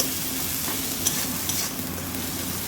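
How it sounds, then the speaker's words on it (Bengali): Spice paste with chilli powder is stirred and fried in oil in a pan, a steady close sizzle with soft scraping strokes, no voices. "ভালো করে মশলাটা কষিয়ে নেব"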